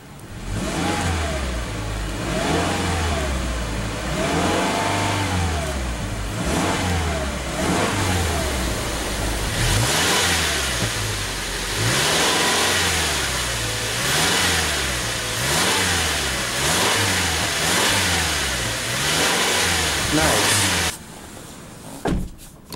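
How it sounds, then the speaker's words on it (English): A 2013 Subaru Outback's 2.5-liter horizontally opposed four-cylinder engine revs repeatedly from idle, rising and falling in a steady series of throttle blips, loud and close, with no talk over it and a brief quiet at the end. "let's go ahead and rev up the Outback."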